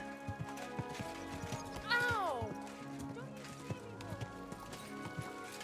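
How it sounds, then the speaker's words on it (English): A horse in Kingdom Come: Deliverance II clip-clops along at pace with steady hoof beats and gives a loud whinny partway through, while a voice speaks over the game sounds. "Easy, good horse. Go!"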